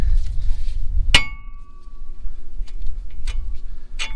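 A single sharp metallic clang as a hammer strikes a car part during an LS engine swap, with a short ringing tail, followed by a few lighter clinks against a low background rumble.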